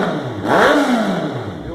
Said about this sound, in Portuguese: Viu o ronco da máquina aí